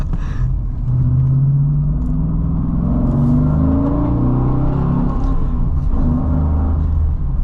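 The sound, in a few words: Holden VE SS V8 manual wagon engine rumbling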